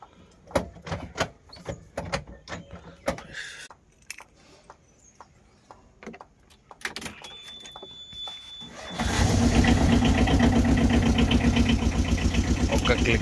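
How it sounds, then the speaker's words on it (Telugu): A rain-soaked motorbike: a run of sharp clicks and knocks, then the engine catches and settles into a loud, steady, pulsing idle close by. "ఒక్క క్లిక్గా అయిపోయింది బండి స్టార్ట్."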